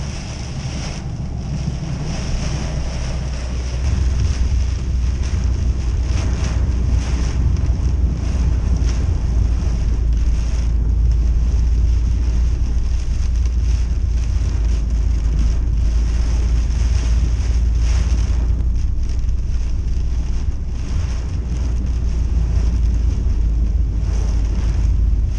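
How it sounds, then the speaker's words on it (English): Wind buffets a car steadily while rain patters and rushes over it, a constant roaring wash with deep low rumble and gusting swells. "some people like listening to rain when they're going to sleep"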